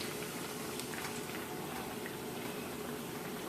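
Salmon croquettes frying in very hot grease in a pan, a steady dense sizzle and crackle held at an even level throughout, close and fairly quiet, with no talking.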